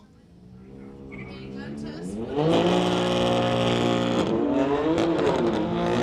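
Two BMWs, a 2022 and a 2021, launch side by side in a street-legal drag race, engines revving and rising steadily in pitch into a loud sustained wail, with a voice faintly under them.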